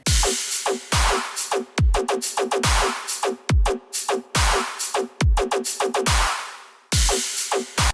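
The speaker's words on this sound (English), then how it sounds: "It's an offbeat little chug pattern," Punchy electronic drums with a chugging offbeat bass, layered with a square-wave bass, cutting in and out in a tight, repeating rhythmic pattern, loud and dry.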